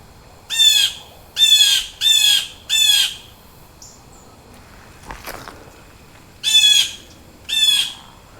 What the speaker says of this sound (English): Bird doesn't like me.